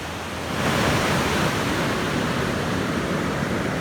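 Ocean waves at La Jolla beach in San Diego, California, make a steady, loud roar of surf and washing foam that swells in after a moment and continues with no voices.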